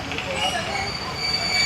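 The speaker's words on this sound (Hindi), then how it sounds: "2:57 पर हमारी ट्रेन पहुँच गई है" The Sukkur Express pulls into Jacobabad railway station, its wheels and carriages rumbling and squealing steadily at close range, with a dense, noisy roar filling the platform.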